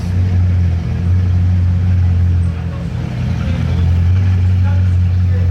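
Bugatti Divo supercar engine resonating in Monaco, a deep steady low rumble holding strong throughout with slight swells, close and loud, with voices faintly underneath.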